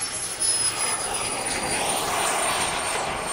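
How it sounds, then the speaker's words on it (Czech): A jet aircraft touches down and brakes on a grass runway at an airfield airshow in Ivančice, Czech Republic, its steady engine roar and whine filling the scene continuously at moderate loudness. "opět krásné dosednutí na dráhu a pěkné vybrždění, ano, v té trávě"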